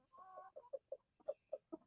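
Hens in a grow-out pen give a short run of soft, rhythmic clucks, about six distinct notes, faint and close, with a steady high electrical whine underneath.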